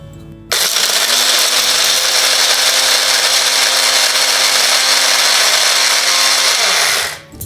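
A loud, steady electric mixer grinder whirring for several seconds as it grinds tamarind, turmeric powder, salt and spices, starting abruptly and winding down at the end, with no talking.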